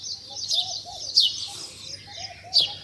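Dove calling in a village garden, soft low coos repeated several times at a moderate distance, with sharper bird chirps above, under a quiet background.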